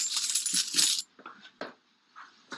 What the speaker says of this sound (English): There's a lot of coins up there, Coach Mike.